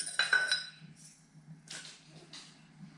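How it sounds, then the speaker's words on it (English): Two metal whisks are picked up in a kitchen: a short bright metallic clink and rattle, then a few softer taps and brushing handling noises over a low steady hum. "You grab 2 whisks"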